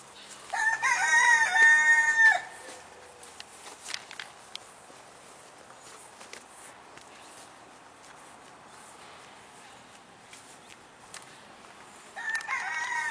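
In a garden setting, a rooster crows loudly and close for about two seconds, then footsteps and faint rustling follow, before another crow begins near the end.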